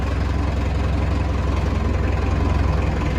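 An HMT 5911 tractor fitted with a 75 HP Sonalika engine idles close by with a steady, low, throbbing chug that stays even and loud throughout, with no voices.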